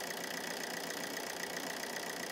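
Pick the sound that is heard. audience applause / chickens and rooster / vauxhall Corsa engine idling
vauxhall Corsa engine idling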